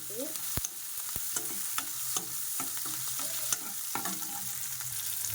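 Tomatoes fry with a steady sizzle in a pan for Bombay chutney while a spoon stirs them, scraping and clinking against the pan in irregular knocks, close and clear with no talking.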